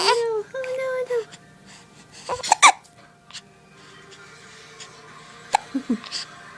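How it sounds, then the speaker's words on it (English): A baby hiccuping, with several short, sharp hiccups and small vocal catches scattered through the clip, close by and at moderate volume between quieter stretches. "The baby with the hiccups."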